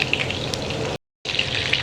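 Chicken lollipops fry in hot oil, giving a steady close crackling sizzle that cuts out briefly and then resumes, with no talking.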